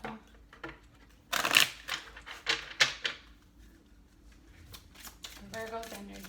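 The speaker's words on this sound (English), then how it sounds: "All right, this will be our last shuffle." Tarot cards are shuffled in several quick riffling bursts up close, separated by pauses, with a voice speaking between them.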